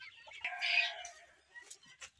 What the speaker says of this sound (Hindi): यहाँ पर पूरा ये मुर्गियाँ यहाँ पर रखे हैं दूसरे सेटअप पे,